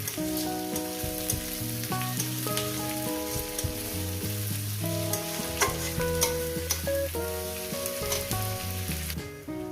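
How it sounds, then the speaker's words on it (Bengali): Onions fry in a pan with a dense, steady sizzle and frequent stirring scrapes, close up, while music plays loudly underneath. "এবার এটাকে আমি প্রায় দু তিন মিনিট ধরে আমি পেঁয়াজটাকে ভেজে নেব"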